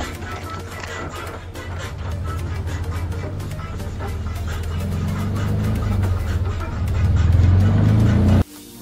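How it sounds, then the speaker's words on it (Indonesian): Steady low engine rumble and road noise from inside a mikrolet public minibus travelling through Manado, Indonesia, building gradually louder before cutting off abruptly near the end. "jadi ini saya sudah berada di dalam mobil microled menuju ke daerah Paldua"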